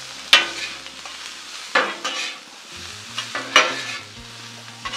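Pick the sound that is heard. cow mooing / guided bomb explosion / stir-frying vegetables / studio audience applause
stir-frying vegetables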